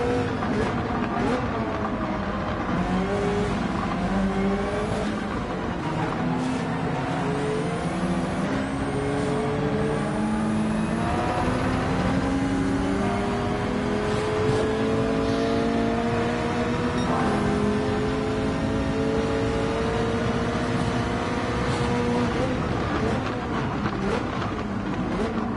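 Race car engines in a wet Gran Turismo race at Dragon Trail Gardens: a continuous, steady engine drone with rising and falling pitch sweeps through gear changes, plus a faint voice underneath.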